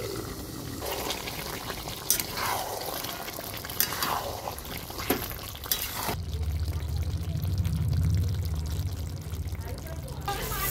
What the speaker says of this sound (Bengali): বেশি জল দিইনি, এই দেখো অল্প করে জল দিয়েছি।